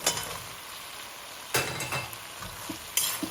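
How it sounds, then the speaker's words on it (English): Potatoes stirred into a chickpea curry in a pan, soft sizzling under several scraping, clinking utensil strokes against the pan, close and without talk. "Stir well to combine"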